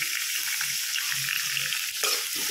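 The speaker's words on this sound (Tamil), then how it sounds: "எல்லாம் சின்ன வெங்காயமும் போட்டாச்சுங்கன்னா நல்லா வதக்கிக்கணும்." Small onions fry with rock salt in a pan, a loud, continuous close-up sizzle with faint stirring scrapes beneath and no talking.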